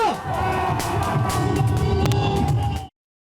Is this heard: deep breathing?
no